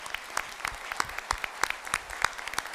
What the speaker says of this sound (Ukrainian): І це точно заслуговує оплесків нашим хірургам.